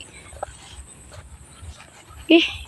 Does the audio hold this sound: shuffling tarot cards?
no